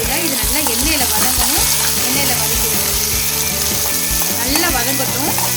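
Loud, continuous sizzling of shallots frying in hot oil for a green chilli chutney, with scraping and stirring clatter throughout and a voice speaking briefly over it.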